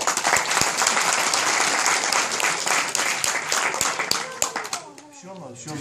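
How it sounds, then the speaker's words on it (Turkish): Loud, sustained audience applause at a 2014 Turkish comedy show, a dense wash of clapping that thins out near the end as voices start talking over it. "Hani bize alkış."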